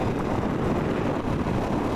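Constant low roaring wind buffeting the microphone while sailing on Sarasota Bay, loud and close, steady throughout with no talking.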